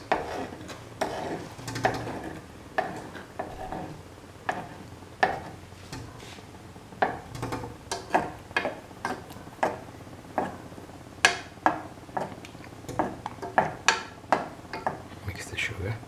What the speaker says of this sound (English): Mix the sugar.